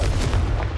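A Confringo blasting curse explodes in a Harry Potter video game as one short, deep, booming burst that stays heavy and loud for under a second.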